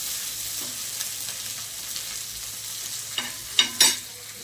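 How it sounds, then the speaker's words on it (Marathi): Tomato, garlic and spices frying in a pan for a spiced cauliflower curry, a soft steady sizzle with a few louder spoon scrapes and stirs near the end, quiet and close. "हे सगळं भाजून घ्यायचं."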